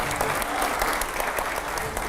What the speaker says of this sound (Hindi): पहले तो जोरदार तालियां हो जाए रैपिड फायर के लिए